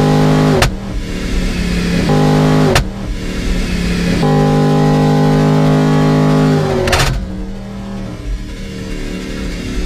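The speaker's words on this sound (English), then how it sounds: "My car is so loud." A loud car with a loud exhaust roars at high speed, around 140 mph, a steady dense engine drone with brief sharp bangs and shifts in pitch, close and dominant throughout.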